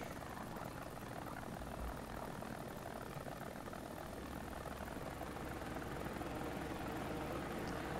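A helicopter in a combat video game flies with a steady, loud rotor thrum and engine drone that runs without a break, close and unchanging, with no talk over it.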